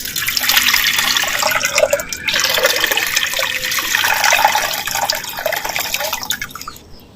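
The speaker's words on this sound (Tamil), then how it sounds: "மண் சட்டி வச்சுக்கிறேன் நமக்கு தேவையான அளவு பச்சை தண்ணி வந்து சேர்த்துக்கிறேன்" Fresh water poured into a clay pot for country chicken rasam, a steady, close splashing and trickling stream running continuously and fading out at the end.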